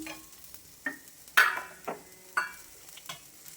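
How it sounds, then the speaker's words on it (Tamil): Soft scraping and stirring of coconut in a pan, with a spatula clacking against the metal every half second or so over a faint, quiet sizzle. "தேங்காய் போட்டு ஒரு லைட்டாக வதக்கிக்கலாம்"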